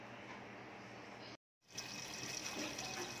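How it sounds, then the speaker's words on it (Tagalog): Skipjack tuna is rinsed under running water in a kitchen, a steady gushing stream that cuts out briefly and then starts again, a little louder. "At hugasang mabuti at ating tulingan."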